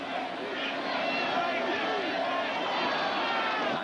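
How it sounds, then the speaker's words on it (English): A huge stadium crowd of about 96,000 at a 1991 Penn State versus BYU college football game roars as a steady, distant wash of cheering under a commentator's voice. "Largest crowd ever watch a game in Penn State."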